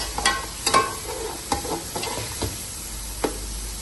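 Ginger garlic paste and crushed green chilli frying with onions in a pan, a soft steady sizzle broken by a few clear scrapes and stirring knocks, close and fairly quiet, with no talk.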